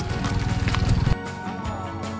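Hooves of a walking horse clop in a quick, steady rhythm on the ground during a ride among the Mandar people, fairly close and loud before softening into scattered, lighter steps.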